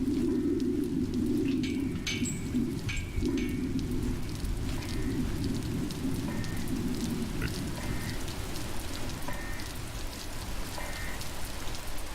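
Steady rain pours throughout a stormy scene in the video game Stifled, forming a dense, even wash of hiss and patter with no voices over it.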